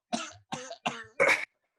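A person imitates a cough, making four short, dry hacks in quick succession, the last one louder and harsher.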